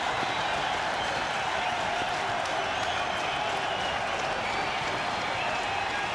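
A cricket crowd at a one-day international between India and New Zealand roars and applauds a wicket, a dense, steady wash of cheering and clapping that stays loud and continuous throughout.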